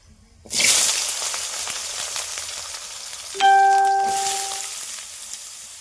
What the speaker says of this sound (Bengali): আর একদিকে সবজি তরকারিটা করতে শুরু করেছি